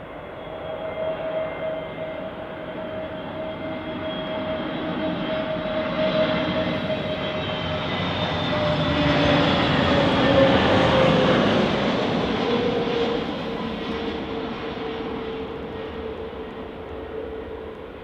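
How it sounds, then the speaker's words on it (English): A British Airways A320 landing at Manchester Airport, its engine roar swelling as it approaches and passes, then easing off after touchdown, steady and moderately loud with no talking. "Nice smooth touchdown there."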